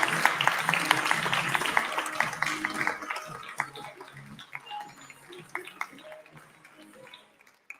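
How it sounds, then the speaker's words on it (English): An audience at an awards ceremony applauds in a dense burst of clapping that thins out gradually into scattered claps and fades away. "Can we give Evelyn a big round of applause?"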